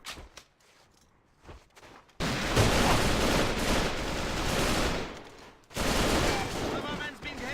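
Rapid automatic gunfire from a Draco rifle in the online shooter AVA during a tournament grand final, loud sustained bursts that break off briefly and resume, with faint footsteps and quiet voices beforehand.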